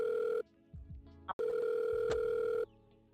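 An outgoing phone call rings back on the line: two long, steady electronic ring tones with a short silent gap between them, clear and close.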